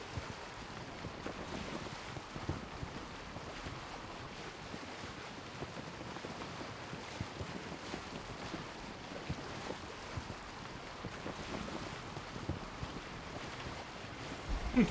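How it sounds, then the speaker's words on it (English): Powerboat engine in Assassin's Creed Origins, a steady droning hum with water and wind wash running continuously, alone throughout. "Powerboat. Check out the engine on this thing."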